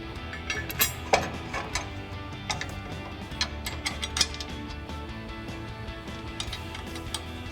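A ratchet socket tightens a bolt fitting a heavy-duty front bumper to a 2021-2023 Ford F-150, with a run of quick clicking pawl ticks and a few sharper metallic knocks, close and moderately loud, with no talking.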